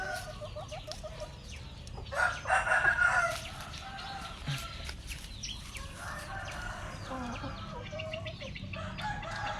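Chickens on a farm crow and cluck at a modest distance, with one loud crowing call rising in the middle among scattered clucks and quieter fowl noises throughout.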